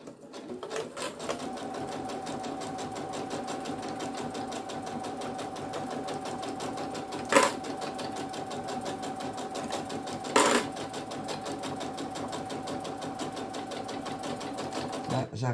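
A sewing machine runs continuously while sewing an XL phone pouch, a steady close whirr with two short louder bumps as the work is pivoted, and someone speaks French over it.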